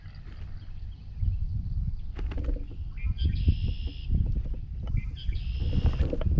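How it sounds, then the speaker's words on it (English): Outdoor birdsong from red-winged blackbirds with repeated chirps and trilling calls over a low rumbling background of bullfrogs, with a few clicks and knocks nearby from a kayak. "those red-winged blackbirds and bullfrogs, it's a beautiful sound"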